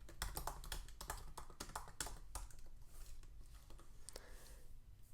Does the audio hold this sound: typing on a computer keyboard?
yes